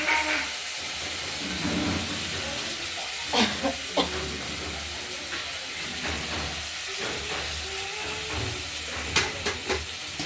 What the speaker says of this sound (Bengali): এবার আমরা বেটে রাখা মশলাটা আর হলুদ একসঙ্গে দিয়ে দিলাম, দিয়ে এটা কষাবো